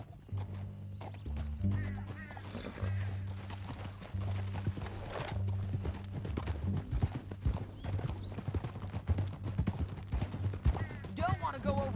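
Steady horse hooves clip-clop throughout in the video game Red Dead Redemption 2, with a horse snorting and whinnying, low music and voices talking over the top.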